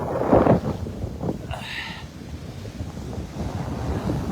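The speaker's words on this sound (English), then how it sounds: "I think the tide's coming in." Storm wind buffets the microphone as waves wash against the coast, a steady rough rumble with gusty surges.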